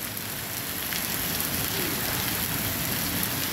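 A heavy October rain falls in Guajará-Mirim, Rondônia, a dense, steady hiss of drops pattering on surfaces, close and constant throughout with no voices.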